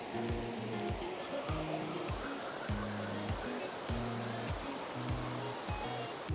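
Cold running water rushes steadily through a humid tropical forest in Colombia, a loud, continuous broadband wash with no voices over it.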